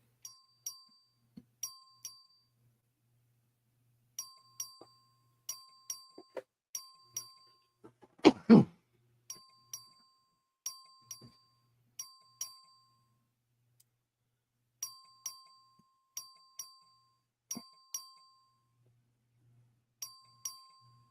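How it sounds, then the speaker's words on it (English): Voting bell in the Texas House of Representatives chamber, sounded as a record vote opens: a series of bright, clear electronic ding tones repeating in irregular bursts, with one louder, heavier clang near the middle and a quiet room behind. "The clerk will ring the bell."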